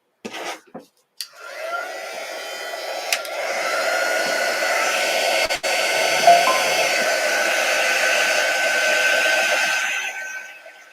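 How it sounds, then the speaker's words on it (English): A quick-dry tool, a small hot-air dryer, blows on a chalk paste flower center on a mini clipboard, a steady close whirring drone running about nine seconds after a few brief clicks. "we're just going to dry it with our quick dry tool."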